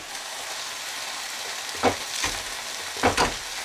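Cantonese stir-fried rice frying in a hot wok, a steady close hiss of sizzling with a few louder crackling bursts as food hits the oil, no talking.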